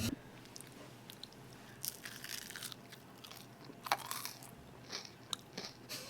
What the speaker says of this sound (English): The potatoes are so crunchy.